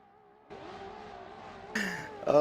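A drift car in a racing video game with a realistic sound mod builds engine drone that rises in pitch, then breaks into high tire squeal and sharper revving near the end, steady and close.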